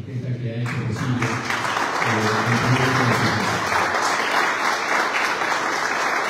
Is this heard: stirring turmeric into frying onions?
no